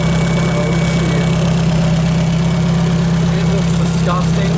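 A Toyota Starlet 5EFE wrecker engine runs on a test with a steady, loud, droning idle that holds without letup, its low hum constant throughout.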